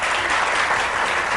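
Studio audience applause on a morning talk show, a dense, continuous burst of many hands clapping at steady volume from start to finish.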